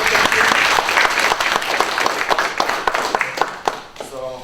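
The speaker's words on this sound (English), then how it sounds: "can we give our panelists a round of applause?" Audience at a local Democratic Party meeting applauds a group of panelists, steady dense clapping from a room of people that gradually thins toward the end, with a little background chatter.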